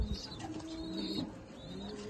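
Pigeons in a home loft coo softly in the background, a faint low warbling murmur with a few higher chirps, quiet and continuous without talk.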